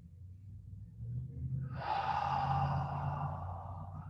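Slow, deep breath during a floor stretching exercise, a long airy exhale rising after a second and trailing off, close and soft, with no talking.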